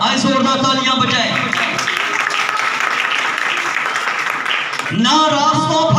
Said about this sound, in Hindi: आए जोरदार तालियां बजाएं।